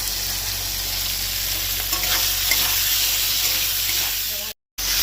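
Potato, onion and tomato frying in a pan for a Bengali bata fish curry, a dense, close, continuous sizzle with stirring scrapes throughout, cut by a brief silence near the end.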